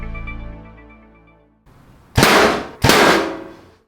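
A broadhead arrow is shot through a steel plate, giving two sharp, loud metallic impacts in quick succession with short ringing tails, after a fading low tonal hum.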